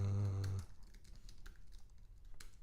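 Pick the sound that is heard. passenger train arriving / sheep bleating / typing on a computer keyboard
typing on a computer keyboard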